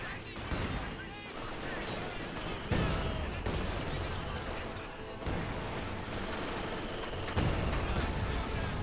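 Mortar and gun barrage from the Company of Heroes 2 strategy game, a dense, continuous rumble of booming shots and blasts with several louder impacts, heard alone without talk.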